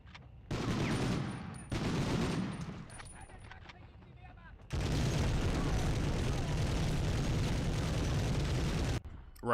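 Light machine gun firing in the Medal of Honor video game, with dense sustained bursts broken by short gaps and a long continuous stretch of rapid fire.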